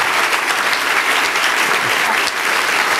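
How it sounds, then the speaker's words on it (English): Loud, sustained standing-ovation applause from a large crowd in New York fills the whole stretch, a dense steady roar of clapping with no pauses. "there is a standing ovation here in New York for you."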